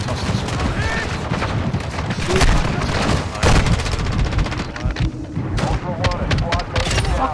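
Call of Duty DMZ combat with dense bursts of automatic gunfire and scattered single shots, close and loud, layered under ongoing talk from squadmates.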